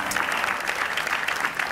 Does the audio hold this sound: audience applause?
yes